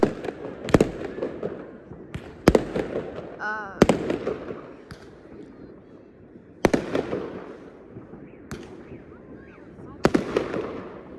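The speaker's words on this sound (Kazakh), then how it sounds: "қазір біздің папа салют ататын болады" New Year fireworks go off outdoors as a series of sharp cracking bangs spaced a second or two apart, each trailing into crackle and rumble, while people talk nearby.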